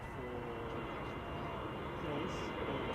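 A United Boeing 777-200ER arriving at Schiphol after a flight from San Francisco gives a steady, broad jet rumble at moderate distance, with someone talking over it.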